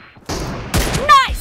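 Gunfire rings out in the PUBG video game on the Livik map, a short burst of sharp shots with a ringing tail, loud and close.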